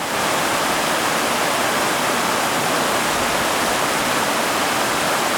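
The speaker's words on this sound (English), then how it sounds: "Lots of cascades right here." Mountain creek tumbling over cascades, a loud, close, unbroken roar of rushing water with no voices.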